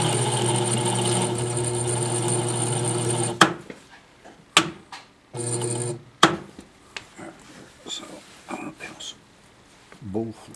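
A 920B toroid winder runs with a steady humming motor whine while winding wire turns, then cuts off, leaving short restarts, clicks and clacks under people talking nearby.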